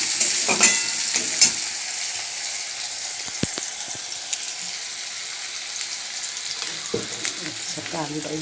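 A single potato fries in hot oil with a close, steady sizzle and crackle, a few sharp pops and stirring knocks, and brief murmured voices near the start and end.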